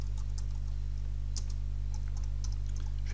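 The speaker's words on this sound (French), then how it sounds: "Je tape traverse longue." Fast, light clicking of typing on a computer keyboard, keys pressed in quick irregular bursts against a steady low hum, fairly close and soft, with no talk.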